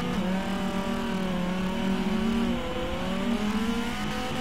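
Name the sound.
Dodge Viper V10 race car engine in a racing video game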